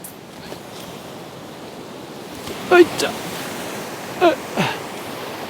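Ocean waves wash against the rocky shore at Jumunjin during lure fishing, a steady hissing surf with a few brief louder splashes, and someone talks briefly over it.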